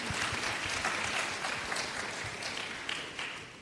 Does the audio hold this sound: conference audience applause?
yes